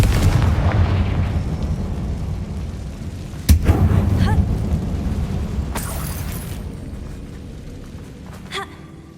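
A Confringo fire spell bursts inside a closed mine in Hogwarts Legacy, a deep rumbling boom with a sharp crack partway through, then a rolling low roar that slowly fades, with a faint voice underneath.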